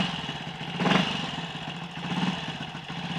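A Triumph Tiger Cub trials motorcycle engine running without a battery, a close, steady single-cylinder idle with a mechanical clatter and a brief rise in revs about a second in.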